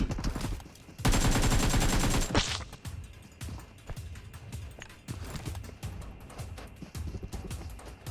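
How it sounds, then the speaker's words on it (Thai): Gunfire in the battle royale game PUBG Mobile, a loud sustained burst of rapid shots followed by scattered sharper cracks and shots continuing through the rest of the passage. "มีคนยิงด้วยครับ"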